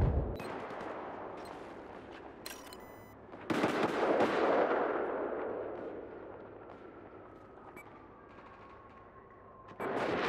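Battlefield 4 gunfire and explosions in continuous game combat, with a dense rumbling battle bed, a sharp burst near two and a half seconds and a loud blast around three and a half seconds.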